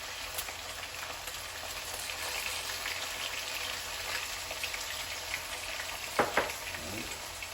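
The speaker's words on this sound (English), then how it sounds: "I'm going to go ahead and add a little bit of minced garlic into this" Minced garlic frying in a pan for fried rice, a close, continuous crackling sizzle that holds steady, then a couple of sharp utensil knocks near the end. No one speaks.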